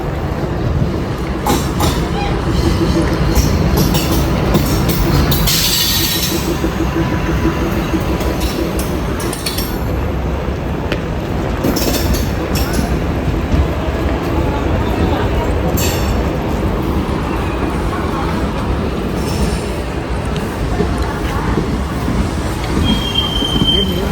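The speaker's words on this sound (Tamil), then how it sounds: "நம்ம கனெக்ஷன் ட்ரெயின் வந்துருச்சு அதில் ஏறி வேளாங்கண்ணிக்கு போகலாம்" A passenger train rolls along loudly with sustained wheel squeal and rattling carriages, steady throughout, with faint voices mixed into the din, on the Nagapattinam to Velankanni line in India.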